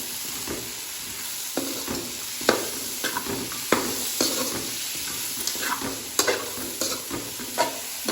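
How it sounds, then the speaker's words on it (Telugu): Fresh mint and coriander being stirred into a dish frying in a pan, with a steady sizzle under repeated close scrapes and knocks of a spoon, and no talk. "దీంట్లో ఇప్పుడు నీట్గా కడిగి పెట్టుకున్న పుదీనా వేసుకోవాలి అలానే కొత్తిమీర కూడా వేసుకోవాలండి కలుపుకోవాలి"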